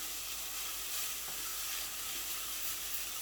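Bolognese mince sizzles and fries in a pan while being stirred, giving a soft, steady hiss with faint scraping and no voices.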